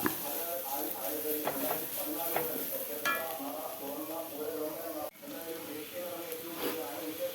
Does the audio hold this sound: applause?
no